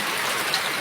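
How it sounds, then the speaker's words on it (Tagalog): Steady rain falls in a dense, even hiss, with no voices, during a rainy day at home. "Ulan talaga."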